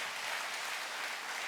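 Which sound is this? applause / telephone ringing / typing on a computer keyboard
applause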